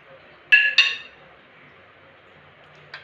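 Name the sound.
lid being taken off the cooking pan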